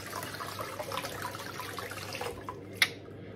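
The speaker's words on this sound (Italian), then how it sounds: "Bagno nuovamente il rasoio, sempre con acqua calda." A razor is rinsed under hot running water from a tap, giving a steady soft splash and trickle, then a short sharp knock near the end as the flow stops.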